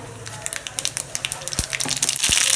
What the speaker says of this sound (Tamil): எண்ணெய் ஊற்றியாச்சு கடுகு போட்டுக்கலாம்